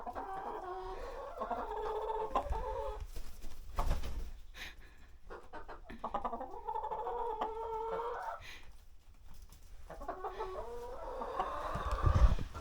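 Chickens cluck in repeated bursts at close range, with short pauses between the calls and a brief louder rustle near the end.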